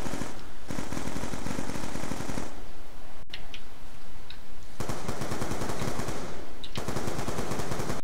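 Rapid bursts of Galil assault rifle fire in Black Ops 2 Zombies on the Buried map, loud sustained automatic volleys separated by a short pause, with faint clinks in the gap.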